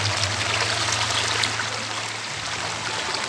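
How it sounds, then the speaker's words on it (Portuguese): A strong current of floodwater rushes through a submerged street on Itamaracá island, a loud, continuous broadband roar with a low rumble underneath and no voices. "E a água tá uma correnteza muito forte."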